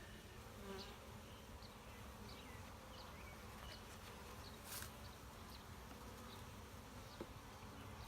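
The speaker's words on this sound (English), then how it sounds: "there's a lot of bees in there" Many honey bees hum and buzz together inside a hive in a steady, low drone, quiet and continuous, with faint higher buzzes drifting in and out.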